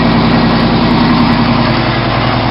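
A lifted 1996 Ford F-150 idles right after a cold start, a loud, steady engine drone with exhaust rumble close by, constant and unbroken with no talk.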